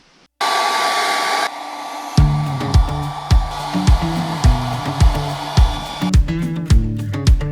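A hair dryer blows steadily, then its whine is broken by a series of rhythmic thumps and clatters, like something being tapped repeatedly nearby.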